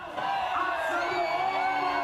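A large crowd at a street rally carrying placards shouts and cheers together in a sustained, loud roar of voices, dense and continuous throughout.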